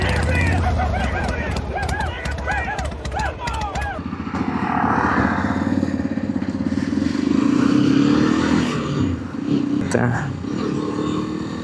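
A Hero Xpulse 210 motorcycle runs with a steady engine drone and some revving, heard close up under talk.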